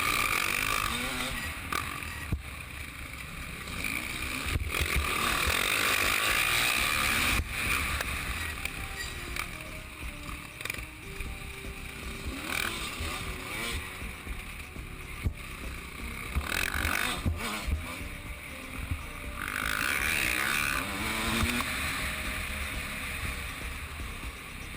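2013 Husqvarna WR300 dirt bike riding on a motocross track, its two-stroke engine revving and dropping continuously through the whole stretch, loud and close with wind noise over it.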